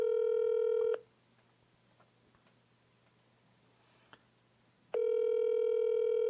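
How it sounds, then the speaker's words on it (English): Telephone tones while placing a call: a loud steady tone for about a second, a quiet gap with faint clicks, then the tone returning loud and steady, no talking. "Let me try call him. Let's just see if he answers."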